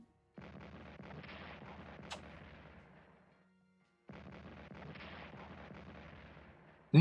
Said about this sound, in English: We're getting shelled to oblivion.